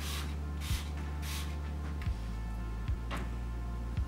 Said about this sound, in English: So first of all, we spray several areas.